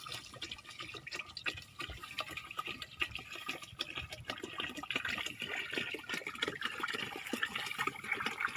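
Khichdi cooking in a pot gives off faint, irregular bubbling and popping, soft liquid blips scattered continuously with no talk over them.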